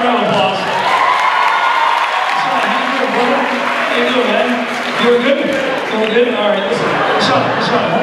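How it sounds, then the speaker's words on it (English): An audience at a stage hypnosis show gives a student sustained applause, a loud, dense wash of clapping with some cheering that runs the whole time while a voice talks over it. "Give Nishan a big round of applause."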